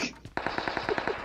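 Rapid automatic gunfire from a shooter video game, a burst of about a dozen evenly spaced shots after a brief opening crack, loud and close with no talk over it.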